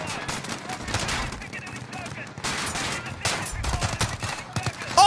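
Rapid gunfire from the Call of Duty Modern Warfare campaign, with dense bursts of automatic shots and loud blasts crackling continuously throughout, fairly close and busy.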